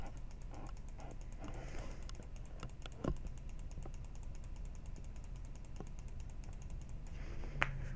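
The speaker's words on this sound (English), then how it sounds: "We basically just have a constant clicking going around, like, just constantly." Constant rapid clicking from the Cookie Clicker game runs steadily throughout, a dense stream of fast, light, keyboard-like taps at an even level with a few slightly louder clicks standing out.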